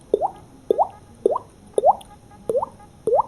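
A beatboxer's mouth imitates a water drop, producing six evenly spaced, bright plinking blips with a rising pitch, loud and close with nothing else around them.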